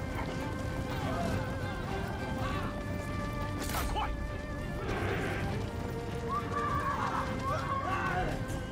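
Horses neigh and whinny amid a noisy battle in the strategy game Three Kingdoms Total War, with hoofbeats, clashing impacts and a dense din of fighting throughout, and someone talks over it.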